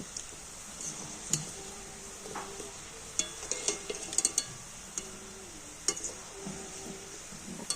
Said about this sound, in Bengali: এইভাবে বড়াগুলোকে ভেজে নিতে হবে